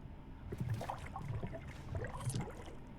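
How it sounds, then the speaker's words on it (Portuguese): Water sloshing and gurgling in the video game Alan Wake 2, a steady low murmur with soft splashy movement throughout, moderately close with no voices. "Barulho de água."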